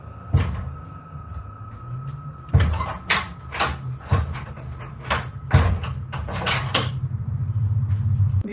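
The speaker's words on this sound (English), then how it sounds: "the latch-held door swings open with force, as if guided by an unseen hand" A heavy door held by a latch swings open with a creak and knocks, several sharp thuds and clatters spread over a steady low background hum, moderately loud and close.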